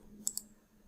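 A computer mouse gives two quick, quiet clicks, a short beat apart, during 3D modeling of a nut and bolt in CAD software, in an otherwise hushed room.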